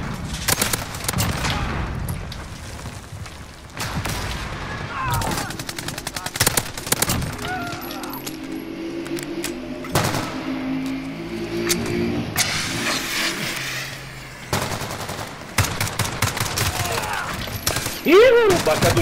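Bursts of automatic and single gunfire and booms from the Call of Duty Modern Warfare video game come thick and fast, loud and close, with players talking over the shooting.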